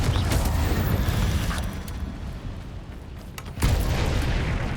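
Confringo explosion spell in Hogwarts Legacy, a dense rumbling blast that fades over several seconds before a second loud boom erupts near the end.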